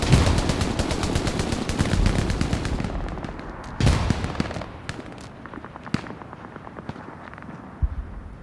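Rockets blast and rifles and machine guns rattle in the Hell Let Loose battle, with heavy booming explosions amid rapid bursts of gunfire, loud and close at first and then thinning into scattered shots and distant pops.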